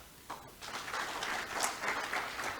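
An audience applauds at an NGO registration event, a steady wash of many hands clapping at moderate distance that swells slightly and continues throughout.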